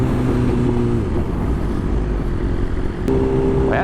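A BMW S1000RR motorcycle on a ride holds a steady engine hum for several seconds, then revs higher near the end, heard close up with wind noise and no talking.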